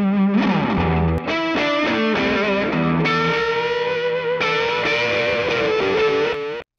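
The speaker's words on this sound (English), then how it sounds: "That's just a delay by itself." Guitar notes with a delay effect, repeating echoes smearing into one another over several strummed and bent phrases, loud and unaccompanied by voices, cutting off sharply at the end.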